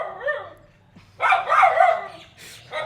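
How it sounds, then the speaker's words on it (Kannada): A dog barking near a village house, a short bark followed by a longer loud burst of barking and another bark at the end, close and clear. "ನಮ್ಮನೆ ಹತ್ರ ಈ ನಾಯಿ ನನಗೆ ಆವಾಜ್ ಆಗ್ತಾಯಿದೆ."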